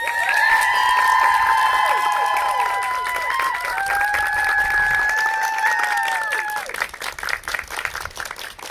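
A small group of people claps for a doctoral graduation, the applause steady and close, with voices cheering and calling out loudly over it before the clapping tapers off toward the end.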